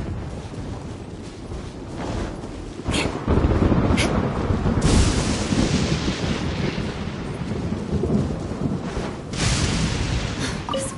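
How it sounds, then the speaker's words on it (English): Thunderstorm in the video game Genshin Impact, with continuous heavy rumbling thunder and rain noise, several loud sharp cracks breaking through over the full span and no talking. "The thunder drowns out all other sounds, hampering my perception of the surrounding environment."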